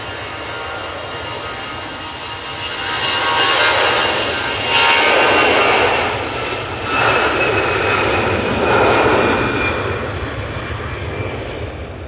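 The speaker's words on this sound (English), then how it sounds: "that Easyjet A320 is off to Porto" EasyJet Airbus A320 jet departing Manchester Airport for Porto, a loud jet engine roar that swells and surges in several waves before easing back, with no talk over it.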